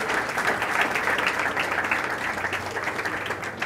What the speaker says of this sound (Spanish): un aplauso, por favor, para el área de tecnología de ESCOL.